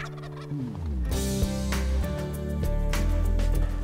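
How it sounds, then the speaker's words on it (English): A wild turkey gobbler lets out a loud, rattling gobble that rolls on for a few seconds, close and clear, on a cold morning hunt with no voices. "on that second morning, the gobblers were just nuts"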